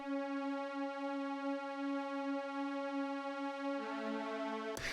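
A bright, sustained synth pad layer for a melodic techno drop holds one rich harmonic chord steadily, shifting to a new note just before the end and then cutting off abruptly.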